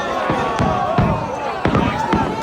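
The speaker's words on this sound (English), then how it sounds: "complete with a magnificent, spectacular fireworks spectacle." Fireworks boom at the opening of the 2020 Special Olympics Winter Games: several sharp bursts in loose succession, with a crowd and background din filling the gaps.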